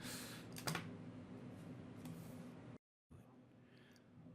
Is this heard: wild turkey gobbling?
no